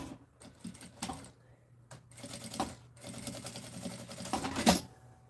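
Sewing machine stitching seams on fabric for a cloth bag and its lining, running in short bursts of rapid rattling stitches between pauses, close and fairly quiet.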